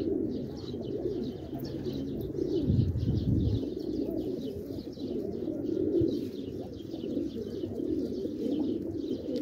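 Pigeons in Quetta, Pakistan coo steadily in a soft, overlapping chorus, with faint chirps mixed in throughout.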